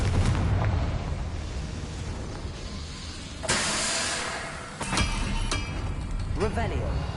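Confringo blasting spells in Hogwarts Legacy go off as loud bursts with a roaring hiss. Several sharp blasts ring out over rumbling game noise, and a voice speaks now and then.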